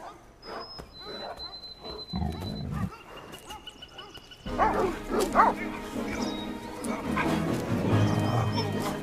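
Two dogs bark and whimper in a tense drama scene, several sharp barks mixed with whining over background music and tones, with voices talking around them.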